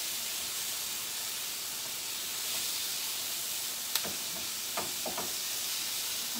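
Beef steak browns in a hot pan with a steady, close hiss of sizzling fat, broken by a few sharp pops and crackles near the end.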